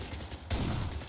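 A short burst of gunfire in the video game Kane and Lynch, a dense muffled volley that swells in the middle of a brief moment, moderately loud against a constant background of noise.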